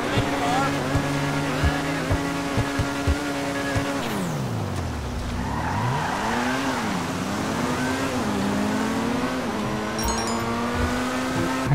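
An Itali GTB sports car in GTA V revs loudly up close, its engine tone climbing, dropping sharply and surging again with shifting pitch, under a constant game-audio bed with occasional clicks.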